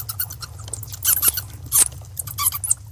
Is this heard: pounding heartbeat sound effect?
no